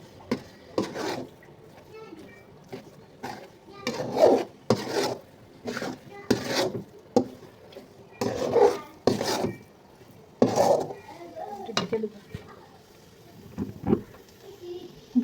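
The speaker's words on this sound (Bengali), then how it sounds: "এবার এটাকে ভালোভাবে নেড়ে চেড়ে মিশিয়ে নিতে হবে।" Pumpkin halwa thickened with semolina is stirred in a pan with steady, rhythmic scraping strokes, each a short rasping rub against the metal, repeated throughout at close range.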